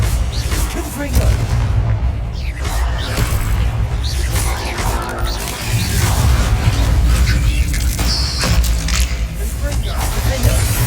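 Blasting Confringo spell explosions in the video game Hogwarts Legacy, heavy low booms layered with battle effects and a shouting voice, loud and continuous through the clip.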